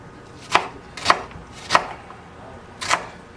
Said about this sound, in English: I go slice, slice, slice, slice, slice, come this way. Cut it, cut it, cut it,